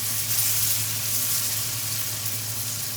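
A salmon fillet sears in a hot pan with a steady, close, loud sizzle that holds evenly throughout, with no voices.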